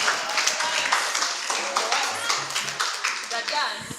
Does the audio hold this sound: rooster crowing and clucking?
no